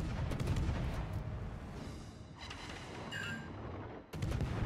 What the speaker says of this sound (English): I'm going to wait for this Bismarck to fire like that